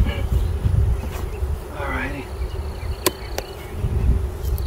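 Honeybees buzz around an open beehive during an outdoor beekeeping demonstration, a continuous insect drone close by with a few brief clicks, while a person speaks briefly over it.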